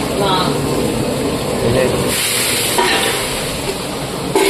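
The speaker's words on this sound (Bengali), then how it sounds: "আমি এখন তেজপাতা, শুকনো লঙ্কা, জিরে এগুলো দেবো।" Bay leaves, dried red chillies and cumin seeds crackle and fry in hot oil for a Bengali dish, giving a dense, steady sizzle with brief stirring scrapes throughout.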